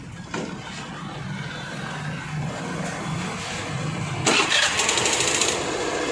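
A Suzuki Avenis BS6 motor scooter with a starting fault turns over and starts, a louder burst near the end, then keeps running at a steady idle.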